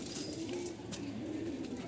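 Pigeons cooing at a rooftop loft where young birds are kept, soft repeated low coos continuing steadily through the moment with faint background noise.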